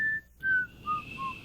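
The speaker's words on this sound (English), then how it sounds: "God, I do love a good whistle." A person whistles a short tune of three or four clear, sustained notes that step downward, close and fairly quiet, with brief gaps between them.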